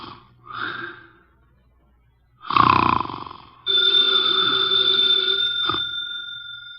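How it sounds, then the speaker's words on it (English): A heavy man sleeping in a chair snores and snorts through his nose in short rough bursts, followed by a telephone bell starting to ring loudly and steadily, up close in a quiet room. "His eyes are closed, and he's making sounds through his nose."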